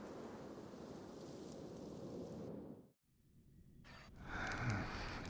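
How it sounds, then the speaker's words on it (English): Steady rain and rumbling thunder from the Honkai: Star Rail video game, a dense continuous wash that cuts out abruptly to near silence before rain swells back in. "You're lucky to have found shelter from the rain."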